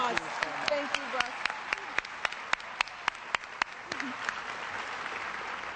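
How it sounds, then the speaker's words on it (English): An audience applauds Russ Feingold at a Wisconsin campaign stop with Michelle Obama, a steady wash of clapping that carries through with a few sharper individual claps standing out near the mic. "So let's give him another round of applause"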